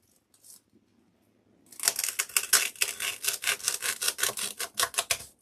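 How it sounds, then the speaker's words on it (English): A sharpened old electric knife blade slices steadily through material after a brief quiet pause, producing loud, rapid rhythmic rasping strokes that continue to the end. "This is an old electric knife blade that's been sharpened."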